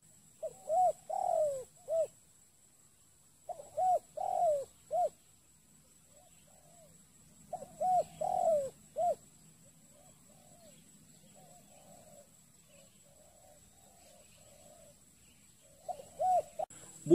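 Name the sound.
zebra dove (tekukur) calling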